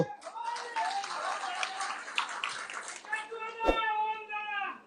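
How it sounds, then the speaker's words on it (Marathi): People clap at a Dharashiv political campaign speech, with a few scattered, sharp claps heard under someone speaking loudly close by. "मग का टाळी वाजवत आहे"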